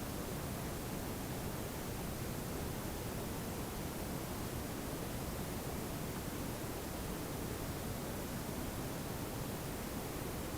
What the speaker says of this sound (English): it will auto start the white noise that I like to hear all the time